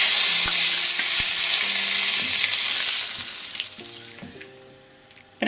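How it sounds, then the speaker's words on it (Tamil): Mustard seeds and curry leaves temper in hot oil for a chicken kulambu, a loud close crackling sizzle that gradually dies down toward the end, with no talk. "கடுகு பொரிஞ்சிருச்சு, கருவேப்பிலை போட்டுக்கலாம்."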